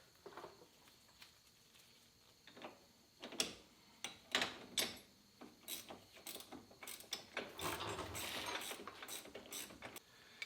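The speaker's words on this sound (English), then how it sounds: "use two 17 millimeter wrenches to fasten down the new hardware" Two 17 mm wrenches tighten HighLIFTer 2-inch lift kit hardware on a 2017-or-later Polaris Sportsman XP 1000: quiet, irregular ratcheting clicks and metal clanks that grow busier and denser toward the end, with no voices.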